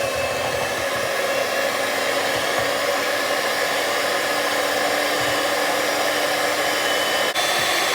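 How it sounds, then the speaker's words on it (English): An electric hand beater whips cream for popsicles in a bowl, a steady continuous whirring drone that runs unbroken and fairly loud, with only a brief dip near the end. "Take a beater and mix the cream for 4 to 5 minutes."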